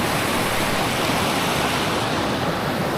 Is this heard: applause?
no